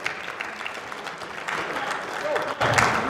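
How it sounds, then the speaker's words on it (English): Applause from an audience at a boxing press conference for Oleksandr Usyk vs Tyson Fury 2, starting modestly and swelling louder toward the end, with some speech underneath. "Let's get a round of applause, please, for Michael Buffer."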